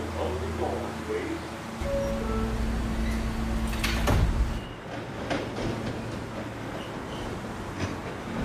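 Subway train doors sliding shut on a local train, a broad rumbling whoosh and thud around the middle over steady rail and cabin noise, with a recorded announcement voice running through.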